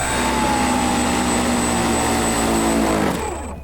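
A scratch-built VTOL tricopter plane with thrust-vectoring hinges flies close by. Its propellers give a loud, steady buzzing whine with a sustained high tone, which fades near the end.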